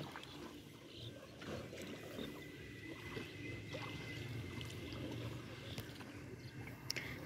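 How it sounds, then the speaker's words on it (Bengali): A wooden boat is rowed across water, with soft, faint splashes and dribbles against a quiet background. "নৌকা চালাচ্ছে।"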